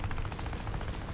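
Rapid burst of aircraft cannon fire from a WWII flight combat game with Hurricane fighters, a quick run of punchy repeated shots over a dull engine rumble, loud and close for about a second.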